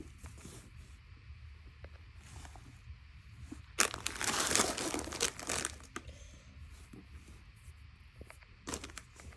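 A bag being opened to take out a box of hot chocolate: a short, close crinkly rustling burst midway, with a few lighter rustles around it against a quiet background.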